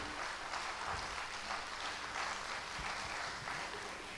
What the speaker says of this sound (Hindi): आप सब जोरदार तालियों से ब्रदर का स्वागत करेंगे।